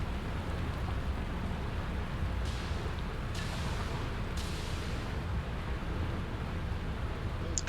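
Steady broadband rain hiss from a Satisfactory video game world, constant and fairly loud, with a few brief brighter bursts layered over the downpour; no voices.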